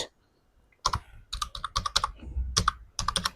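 A file name being typed on a computer keyboard, a close burst of separate key clicks in uneven clusters after a short quiet start.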